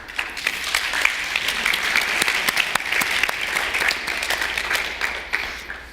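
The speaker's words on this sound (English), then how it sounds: "Wow, unsolicited clapping." A tech demo audience breaks into spontaneous clapping, with individual sharp claps audible inside a steady wash of applause that swells and then tapers off near the end.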